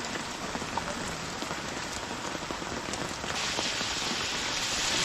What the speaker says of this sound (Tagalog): Ang ulan. Magkataon po ba naman?